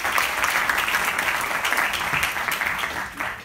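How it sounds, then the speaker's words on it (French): An audience at a startup pitch evening applauds an advisor from a small business, a dense and continuous wash of clapping from a roomful of people that holds steady throughout. "On peut l'applaudir également."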